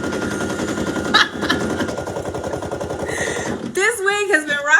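An embroidery sewing machine stitches out a Father's Day design with a steady rapid mechanical chatter, joined late by a higher squealing tone.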